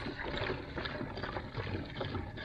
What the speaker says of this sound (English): so I'll just empty this out to where it's at 2 gallons.